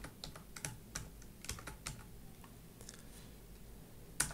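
Quiet, irregular keystrokes on a computer keyboard while entering a plot title at a desk, with soft clicks scattered in short bursts and a sharper tap near the end.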